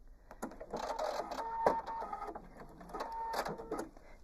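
A sewing machine stitches pieced quilt fabric along a quarter-inch presser foot, giving a steady, close mechanical whir with a faint rhythmic rattle that runs almost the whole time and stays fairly quiet.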